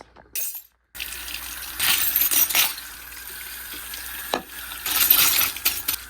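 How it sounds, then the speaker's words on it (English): Items being washed under running water in a bathroom sink, a steady close stream of water with clinks and splashes of objects being handled. "we're coming into the bathroom. We're gonna be washing these babies."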